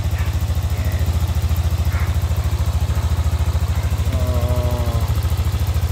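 Close, loud idle of a Yamaha NMAX version 1 scooter with an overheating problem, a steady rapid pulsing throb with slight mechanical clatter, and a voice briefly heard over it.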